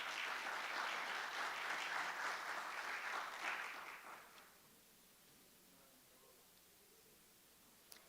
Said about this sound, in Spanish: Le damos la bienvenida y un aplauso.